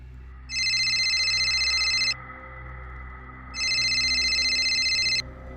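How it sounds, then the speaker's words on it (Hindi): A telephone rings late at night in two long electronic bursts with a pause between them, close and loud against a quiet low hum. "रात के लगभग 2 बजे रघु का फोन बजा"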